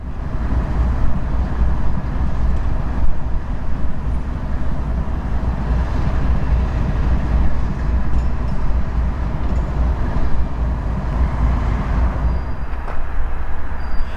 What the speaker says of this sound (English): Now he's backing onto the empty ethanol tank train and will soon be ready to pull out.